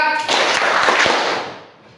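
Hands clap together in a classroom, a dense burst of clapping that rings out loudly for about a second and a half and then fades away, with no talking.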